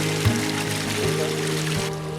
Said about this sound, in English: All right, we've reached the creek.